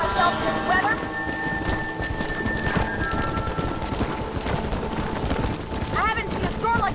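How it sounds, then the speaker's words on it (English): Heavy rain and a thunderstorm in Red Dead Redemption Remastered pour steadily throughout, with horses and cattle moving through the weather and voices calling out over the downpour. "I haven't seen a storm like this for a while."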